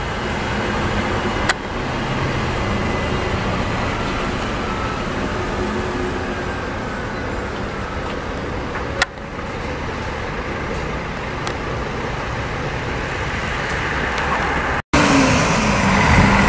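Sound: interstate bus driving past at a Brasília station

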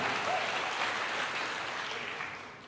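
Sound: church congregation applauding

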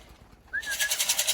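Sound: pigeon cooing

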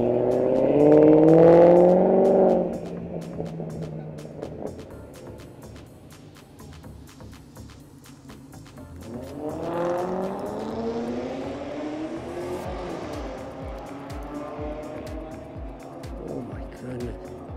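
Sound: cars revving and driving at a car meet

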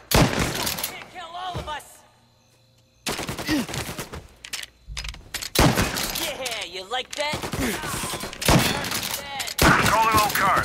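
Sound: gunfire in a video game

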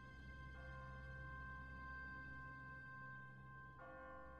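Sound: church bell ringing in The Walking Dead video game

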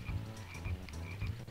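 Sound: frog croaking in video game Diddy Kong Racing

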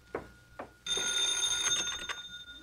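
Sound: telephone ringing

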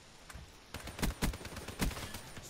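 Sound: sniper gunfire in the video game Man of War

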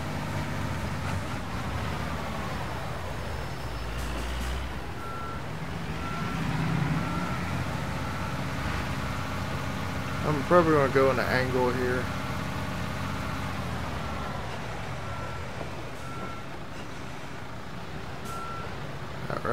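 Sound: concrete truck reversing in Construction Simulator 22 video game

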